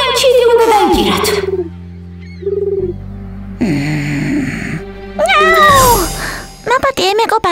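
A cartoon cat gives several loud, drawn-out meows, some stretched and wavering, separated by short gaps, ending in a quick burst of sharper cries.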